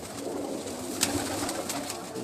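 Pigeons cooing in a steady, overlapping murmur, with a brief sharp flutter or click partway through.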